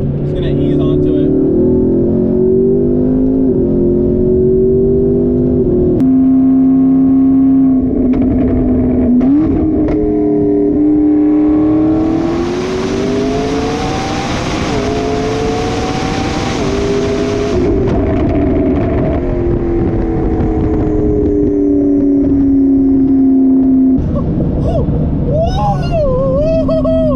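A McLaren sports car accelerates hard through its gears, the engine note climbing in strong sweeps with clear shift breaks and a roaring, whooshing peak mid-run. It is loud and close throughout, with someone speaking over it.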